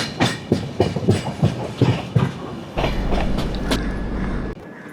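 Trivandrum Veraval Express train entering the loop line at Kankon station, heard from aboard: rhythmic clickety-clack of wheels over rail joints, then a steadier low rumble as the coaches roll on.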